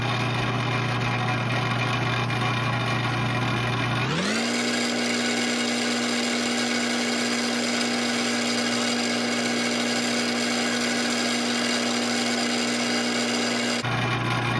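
Sandpaper of 1500 grit is worked over an egg by a steady power tool, whose motor hum shifts up in pitch partway through and then holds a constant drone, loud and close, with no voices.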